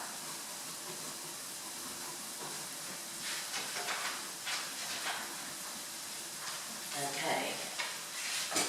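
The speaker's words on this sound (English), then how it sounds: "it's just going to fry gently and get some colour on it" Risotto base frying gently in oil and butter in a pan, a soft continuous sizzle and hiss with occasional stirring scrapes, and a brief word spoken over it.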